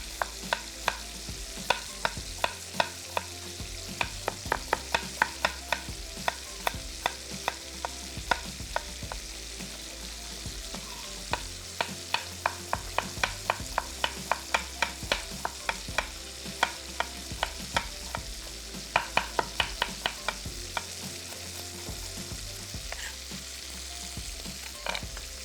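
Thinly sliced onion frying in a pan gives a soft, steady sizzle with long runs of quick, rhythmic spatula taps and scrapes, close but fairly quiet and continuing throughout.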